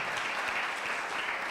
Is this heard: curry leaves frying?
no